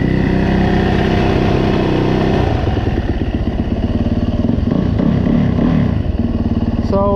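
A Yamaha YZ450F four-stroke dirt bike engine runs steadily and loudly throughout, with a continuous throbbing drone and some rev variation, recorded up close in snowy, slippery conditions.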